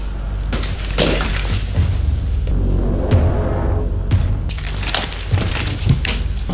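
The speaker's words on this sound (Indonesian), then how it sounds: "Berkat ledakan tersebut," A film explosion set off in a laboratory room, heard as deep rumbling booms with crashing, breaking debris and several heavy thuds over a continuous low roar.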